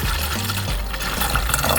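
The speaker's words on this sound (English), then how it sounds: "I'm going to pour in the lime juice." Lime juice pours into a pitcher or bottle in a kitchen, a short steady splashing trickle of liquid filling the container, close and moderately quiet, with no one talking.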